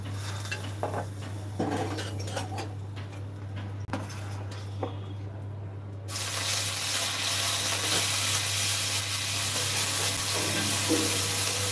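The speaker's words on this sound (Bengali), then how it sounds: "বাগার দিচ্ছি, বাগার তরকারিতে।" Spices for a curry tempering in hot oil, a steady sizzle that surges loudly partway through, with clinks of pots and utensils.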